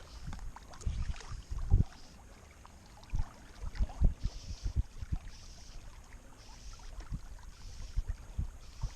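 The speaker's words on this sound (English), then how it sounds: "And this wind's picked up" Gusty wind buffets the microphone outdoors while fly-fishing, coming in uneven bursts of rumbling noise with faint water sounds behind, no talking.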